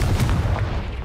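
Confringo spell blast in Hogwarts Legacy, a loud, brief, rumbling explosive burst that fades over about a second.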